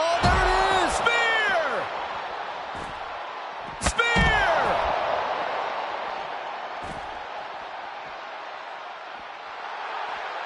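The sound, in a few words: wrestling spear tackle impact, from video game WWE 2K25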